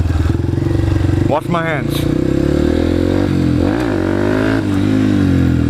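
A dirt bike engine revs hard for a wheelie, a loud, close buzzing roar that rises and falls in pitch through sharp throttle blips, with a voice speaking briefly over it.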